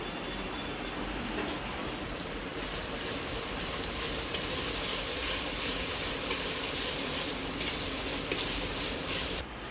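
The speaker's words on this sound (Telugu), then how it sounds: "గడ్డలు అయితే వేగినాయి దీంట్లో కొంచెం అల్లం పేస్ట్ వేసుకుందాం" Onions frying in a pan with ginger paste stirred in: a constant close, loud sizzle with scraping stir sounds throughout and no talk.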